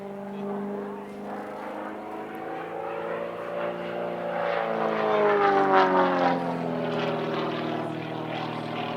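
A full-size Extra aerobatic propeller plane performs at an airshow, its engine droning with a strong harmonic buzz whose pitch bends up and down as it swoops past, growing louder mid-pass before easing slightly.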